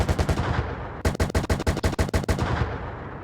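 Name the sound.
BMP-2 machine gun firing in Gunner Heat PC video game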